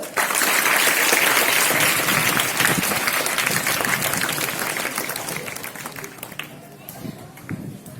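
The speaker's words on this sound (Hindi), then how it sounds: "बहुत अच्छे, तालियां बजाओ." Students in a classroom clap together in loud, dense applause that carries on steadily for several seconds before thinning out toward the end, with some voices mixed in.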